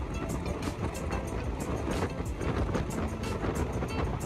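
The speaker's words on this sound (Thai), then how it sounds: "ขบวนรถนำเที่ยวที่921ต้นทางกรุงเทพหัวลำโพงปลายทางโคกสลุง กำลังผ่านป้ายหยุดรถเขื่อนป่าสักชลสิทธิ์แล้วนะครับ" Thai tourist train number 921 rolls past the Pa Sak Jolasid Dam stop, a steady loud rumble with rhythmic clickety-clack of wheels over rail joints throughout.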